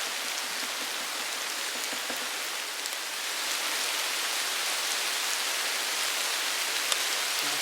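Steady rain falls outdoors in the Petite Creuse countryside, a dense, even hiss of drops on surfaces that thickens slightly partway through and continues without pause.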